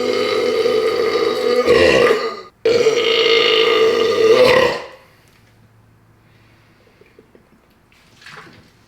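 Two loud, long, gravelly burps come close together after chugging a 1.25-litre bottle of Blue Pepsi, then near silence with a faint wet sound at the end.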